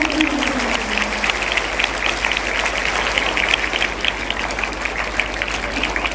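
An audience at a St. Ann's School, Hutti, Pratibha Karanji and Kalotsava event applauds to welcome the school's correspondent. Dense, sustained clapping from a crowd continues steadily throughout.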